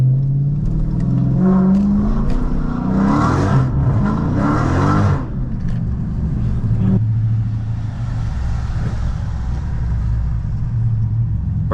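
A catless SRT engine revs hard and roars in repeated surges while doing donuts in snow, loud and close, then drops to a steady rumbling drone.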